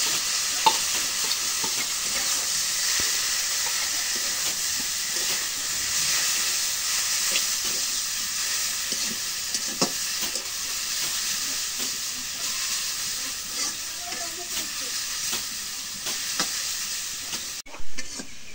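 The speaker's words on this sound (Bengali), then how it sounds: "মরিচ পেস্টটা ভালো হয়েছে, এখন শাকটা দিয়ে দিই।" Greens (shak) being stir-fried with chili paste in a pan: a steady close sizzle and hiss of frying, with occasional scraping and stirring clicks, and no talk.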